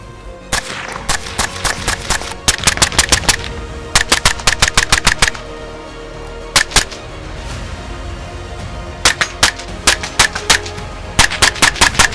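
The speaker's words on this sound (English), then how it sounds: "so we're gonna fire a few more. We are using the Fiocchi blue box" An MP7 fitted with a B&T suppressor fires Fiocchi blue box ammunition in loud, rapid bursts of sharp cracks, with short pauses between strings of shots and no talking.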